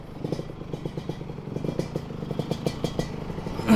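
Yamaha RX King two-stroke motorcycle with a stock engine on a test ride, a steady close chugging engine note with rapid rhythmic pulses and some clatter, swelling at the very end.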